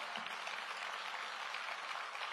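Steady, dense applause from a large audience at a county State of the County address, an even broadband wash of clapping filling the whole stretch without a break.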